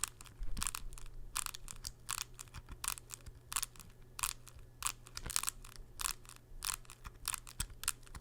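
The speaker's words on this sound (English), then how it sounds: "if you're curious what that sounds like when you press on the center for that crackling noise" A core-crushed pickleball paddle gives a rapid series of brittle crackling crunches as thumbs press on its center, with short irregular bursts repeating close up and no talking.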